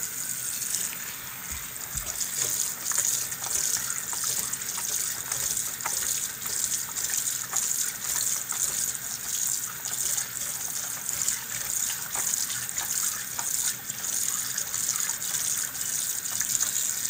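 Water gushes steadily from a kitchen tap while plates are washed with soap, a continuous close splashing stream with faint clinks, running without pause throughout.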